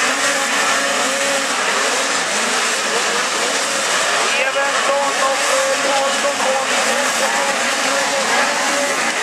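Pro Stock snowmobiles in a snowmobile cross final at Hälsingeracet roar off the start together, a dense, loud, sustained engine howl with revving throughout, and a commentator talks over it.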